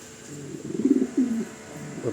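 Pigeons paired in a double cage give a short, soft cooing phrase of a few throaty pulses, close but quiet against faint background noise.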